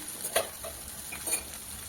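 Poha with coriander is stirred in a hot pan, with a few quick spatula scrapes and taps over a soft continuous sizzle.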